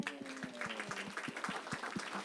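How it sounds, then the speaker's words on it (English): Rhythmic clapping at a school district board of education meeting, with about a dozen even, moderately faint claps in a steady beat and a faint murmur beneath. "I got you guys clapping too much"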